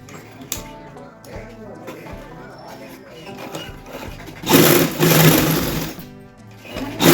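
A sewing machine stitching a cut-work blouse, steady mechanical whir that grows louder and busier midway, with someone talking over it.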